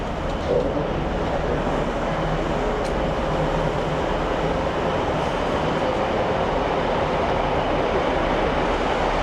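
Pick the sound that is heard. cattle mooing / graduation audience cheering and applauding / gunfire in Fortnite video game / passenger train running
passenger train running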